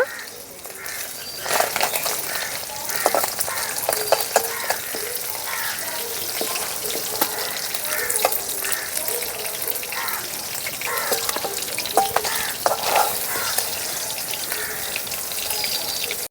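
Steady crackling sizzle of bata fish frying in hot oil, continuous and fairly loud throughout, with occasional sharper pops and spatters.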